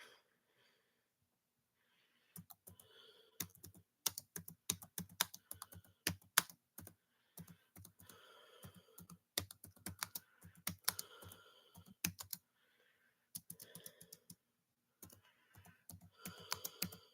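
Crisp keystrokes on a computer keyboard, typed in quick irregular bursts with short gaps in an otherwise quiet room, close and clear.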